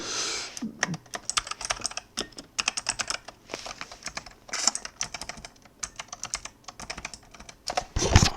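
Rapid bursts of clicking keystrokes on a computer keyboard while coding an HTML web page, uneven clusters of taps with short pauses between them, close and fairly quiet.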